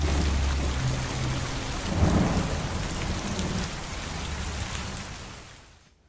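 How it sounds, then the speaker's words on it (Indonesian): Heavy rain pours over a forest at night in a film scene, a dense, loud steady hiss with a low rumble of thunder, swelling briefly and then fading out near the end. "Malam harinya, hutan tersebut diguyur hujan sangat lebat."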